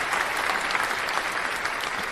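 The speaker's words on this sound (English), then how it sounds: "Big round of applause for Dr. Tachi" A studio audience applauds a guest on a morning talk show about food security, a dense, steady wash of many hands clapping at once, fairly close and loud, with no voices over it.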